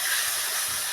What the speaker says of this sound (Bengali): এখানে ঝোলটা ফুটে গেছে